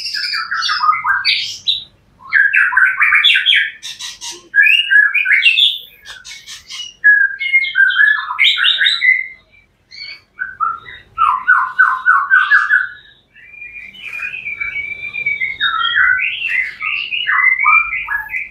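A white-rumped shama sings loud, varied song with rich whistles, trills and squawky phrases, delivered in repeated bursts with short pauses, close and clear with no talking.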